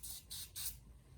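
Alcohol-based window cleaner is sprayed onto a motorcycle surface in three quick, close hissing bursts, each about a fifth of a second long, in an otherwise quiet space.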